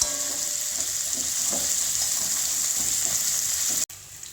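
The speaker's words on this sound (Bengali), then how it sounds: "দেখুন বন্ধুরা, পনিরটি ভাজা হয়ে গেছে।" Paneer pieces fry in hot oil in a pan, giving a steady, close hiss of sizzling with small crackles throughout before a brief cut near the end.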